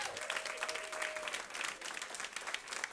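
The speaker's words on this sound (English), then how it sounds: "Give them a round of applause." An audience in a venue gives a round of applause, continuous crisp clapping from many people at an even level throughout, with no speech on top.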